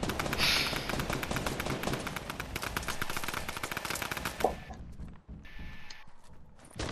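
Tommy gun fire in a Fortnite match: a rapid, sustained burst of loud shots for several seconds, then a short break and scattered quieter shots and game effects.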